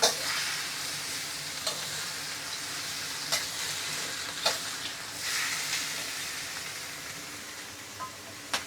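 Lamb breast with garlic is stir-fried in a hot pan, a constant loud sizzle broken by sharp clicks and scrapes of a utensil at irregular intervals.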